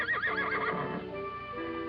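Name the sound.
stallion neighing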